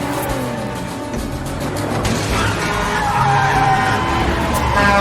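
A tense film car chase in The Bourne Supremacy, with tires skidding and squealing over steady engine roar, the sound building louder toward the end with no one speaking.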